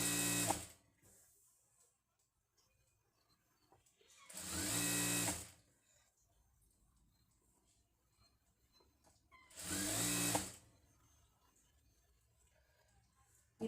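A sewing machine stitches a pant hem in two short bursts of rapid, whirring needle clatter, each lasting about a second, with near silence between them.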